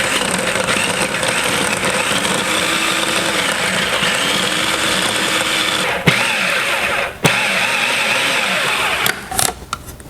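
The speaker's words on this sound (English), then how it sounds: "Pop the lid on and give that a pulse." A food processor whirring as it pulses cold butter into a crumb topping for a Dutch apple pie; a steady, loud motor drone runs nearly throughout, with a couple of brief dips and a stuttering stop near the end.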